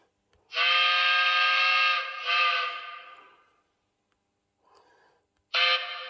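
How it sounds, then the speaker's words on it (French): A Trix 141 R model steam locomotive sounds an American-style steam whistle: a loud sustained chord of about three seconds that wavers briefly, a faint short toot, then a fresh blast starting at the end. "Alors c'est un sifflet un peu à l'américaine, ça choquera peut-être certains."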